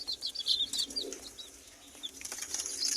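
Young chicks peeping on a farm, a flurry of high, quick chirps close by in uneven bursts, over a faint low background hum.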